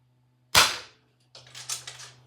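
A single sharp crack from an Avenge-X PCP air rifle fired at a target, close and loud with a short decay, followed a moment later by fainter clicking and rustling handling sounds.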